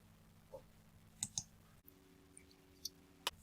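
Several faint, isolated computer mouse clicks while saving a page in an email marketing builder, spaced irregularly in a quiet room.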